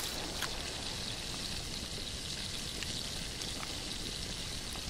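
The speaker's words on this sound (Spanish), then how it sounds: "voy a vaciar esto de agua" In a survival video game, water is emptied out of a container: a steady, rushing pour that stays level and continuous throughout, with faint scattered drips and no talking.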